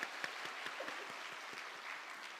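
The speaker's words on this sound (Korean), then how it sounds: "하나님께 영광의 박수 올려드리겠습니다." Steady applause from a church congregation at an early-morning revival service, dense clapping with a few sharper claps standing out, sustained at an even level throughout.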